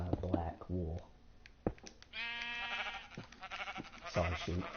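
Sheep in Minecraft bleat in a long, wavering call between stretches of talk, with a few sharp clicks around it.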